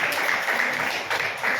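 Hands clap across a church congregation during a Hindi-language sermon on freedom in Christ, a brief, dense wash of many overlapping claps at an even, steady level.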